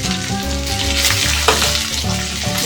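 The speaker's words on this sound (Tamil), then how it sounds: "போட்டு நல்லா வதக்கிக்கலாம்." Garlic, onions, curry leaves, four dried red chillies and dal fry in oil for an onion chutney, making a loud, close, continuous sizzle over a steady humming tone, with brief crackling bursts.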